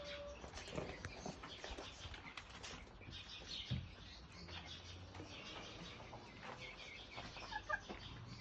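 Ornamental chickens, including Ispenç hens, cluck and murmur in a coop, with occasional wing flaps and scattered bird sounds over a busy, steady background.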